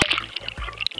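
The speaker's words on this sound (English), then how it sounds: "Dang, that makes a loud splash." A sharp splash as a live shiner baitfish on a bobber rig hits the water while bass fishing, a short burst of splatter and slosh up close, followed by a brief trickle.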